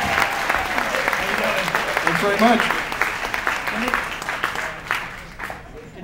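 An audience applauds to welcome the moderator onto the stage: steady close clapping that swells and then fades as a man thanks the crowd over it.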